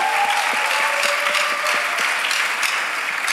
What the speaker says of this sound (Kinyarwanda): dukomere imana amashyi kandi dushimire umushumba wacu